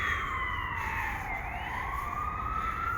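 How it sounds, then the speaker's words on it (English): A distant emergency siren wails in Brooklyn, New York, its pitch sweeping down and back up, over a low rumble of traffic. "Wouldn't be New York without sirens"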